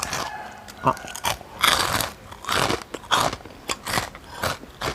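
Crunchy bites and chewing of khanom chin rice noodles with crispy pork rinds, a run of close, irregular crackly chomps spread through the whole stretch, with no talk over them.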